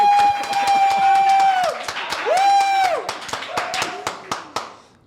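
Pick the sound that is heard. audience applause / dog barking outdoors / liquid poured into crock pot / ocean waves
audience applause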